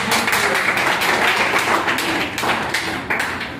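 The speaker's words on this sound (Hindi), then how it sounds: "जोरदार ताली होनी चाहिए" Loud, dense applause from an audience at a World No Tobacco Day event, steady clapping with scattered sharper claps filling the whole stretch.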